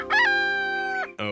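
A creature sound effect from the caveman film Caveman, with a loud, close, chicken-like crowing squawk held for about a second, followed by a brief second squawk.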